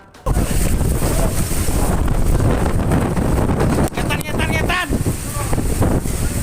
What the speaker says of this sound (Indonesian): angin puting beliung terjadi di kawasan Terminal 1 Bandara Juanda dan berlangsung dalam waktu singkat namun cukup kuat